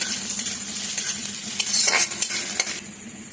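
Chopped onion and crushed garlic frying in hot oil, a steady close sizzle with a spoon stirring and scraping through the pan in irregular strokes.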